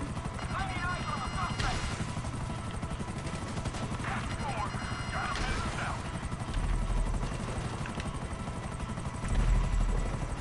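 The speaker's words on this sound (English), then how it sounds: "Oh, I'm being chased by another helicopter." A helicopter's rotor chops steadily in the background of a game soundscape while muffled chatter comes and goes.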